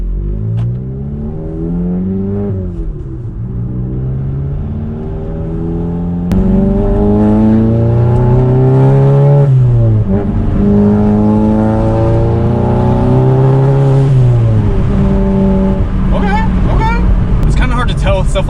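A Volkswagen MK7 GTI fitted with an IE turbo inlet, big intake and heavy-duty clutch accelerates hard and close: the engine climbs in rising sweeps through several gear shifts, loud throughout.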